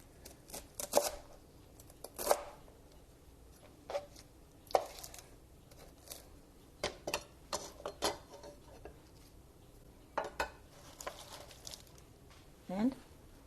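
Knife chopping romaine lettuce into small pieces on a cutting board for a salad, a series of crisp, irregular close cuts in bursts, some louder thumps against the board.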